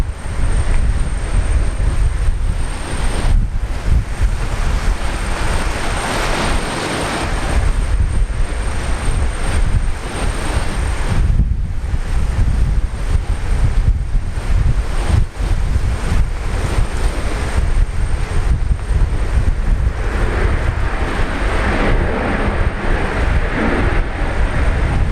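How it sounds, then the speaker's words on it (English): Strong cyclone wind battering the microphone at Brisbane Airport, loud continuous gusting roar with surges and dips across the whole span, with no talk. "It's really fighting this wind."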